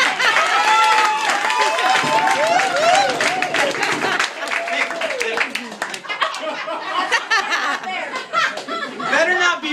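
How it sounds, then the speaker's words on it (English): Applause and chatter fill a room at a surprise celebration for Jessica, many hands clapping loudly near and far, with laughter, chuckles and voices mixing in throughout. "More applause, please."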